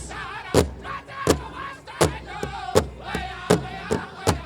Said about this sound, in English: Ladies and gentlemen, put your hands together and make some noise.